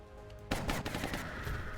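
A gunshot from a scoped rifle in the tactical game XCOM: Enemy Within, Long War mod, cracks sharply and loudly, followed by a brief rattling tail of shots and debris.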